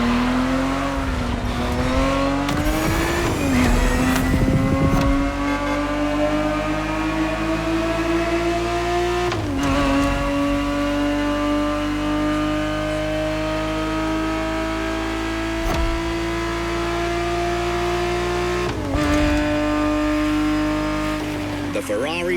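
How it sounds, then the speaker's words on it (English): A Ferrari 365 GTB4 races in The Crew Motorfest, its engine a loud, sustained, close howl that climbs in pitch and drops at gear shifts, with brief tire squeals and a voice talking over it. "The Ferrari 365 GTB4 is the perfect vehicle for you to experience Ferrari racing as it felt back in the 70s"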